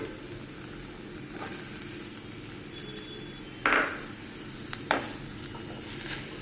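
Steamed beetroot sautés in ghee with a soft, low sizzle, overlaid by a few stirring scrapes and a couple of sharp utensil taps against the pan.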